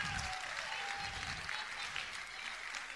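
A crowd at an engagement celebration claps together in sustained applause, dense and steady for a few seconds, with faint voices mixed into the clapping.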